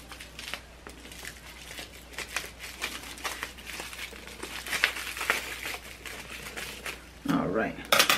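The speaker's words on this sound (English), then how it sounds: "It has bubble wrap on here." Bubble wrap packaging on a won giveaway parcel crinkles and crackles in repeated bursts while a person talks over it, with sharper louder rustling toward the end.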